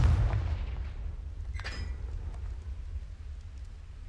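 Confringo fire spell blasts in the video game Hogwarts Legacy, a deep rumbling boom at the start that fades into a low sustained roar, with a brief bright crackle partway through.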